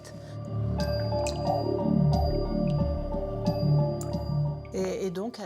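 Water drips and trickles over limestone inside the grotto at Lourdes, with irregular close drips and splashes over a steady wet wash, plus a brief burst of squelching near the end.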